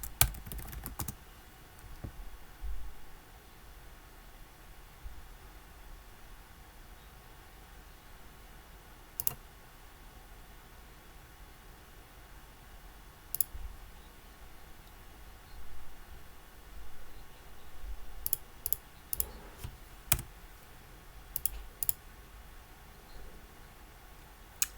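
Computer keyboard keys and mouse buttons clicked while installing a WordPress plugin: sparse, crisp taps close to the mic, some isolated and some in short bursts, over a quiet hiss, with no talking.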